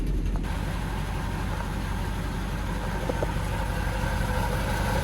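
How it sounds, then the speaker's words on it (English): An old squarebody truck engine idles steadily with a low, even rumble, continuous and moderately close with no talking over it. "she seems to be idling pretty solid"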